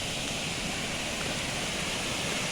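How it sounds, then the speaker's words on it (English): A waterfall beside a flooded back road gives off a steady, dense roar of rushing water, continuous and fairly loud, with no voices. "This is a cool looking waterfall."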